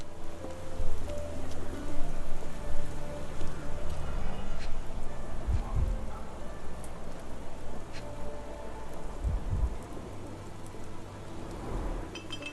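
Rain falls steadily on a street in the game Sherlock Holmes The Awakened, a dense continuous patter with occasional clinks and low thumps, fading slightly near the end.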